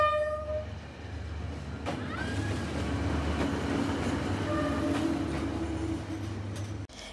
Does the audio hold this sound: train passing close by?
yes